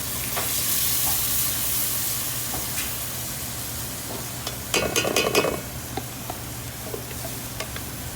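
Coconut milk and fish sauce hit a hot pan for a curry with ginger and garlic. A steady close sizzle and hiss runs throughout, swelling into a brief louder bubbling burst midway, then settling back to an even fry.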